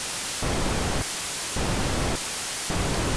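White noise test signal switching on and off in bursts, a harsh, full hiss cutting in and out roughly every half second to second, with quieter filtered hiss in the gaps and no voices.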